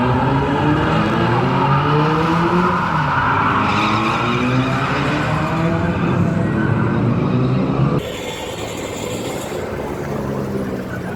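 A Lada drift car screams through a slide at a drift event, its engine revving hard in rising and falling sweeps over continuous loud tire squeal, with a sudden shift in tone near the end as the car passes.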